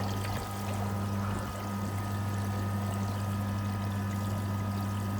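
Water flows steadily through a newly switched-on pond UV filter, a continuous trickling rush over a low steady pump hum, with no talk.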